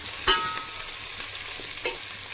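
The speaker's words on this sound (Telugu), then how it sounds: "3 ఎండుమిరపకాయలు వేసుకుందాం. అంతా కలుపుకుందాం. గోల్డెన్ కలర్ వచ్చేంత వరకు ఆగుదాం." Three dry red chillies with mustard and cumin seeds fry in a pan for a cabbage dish, giving a steady sizzle with two sharp clinks of a spoon stirring against the pan.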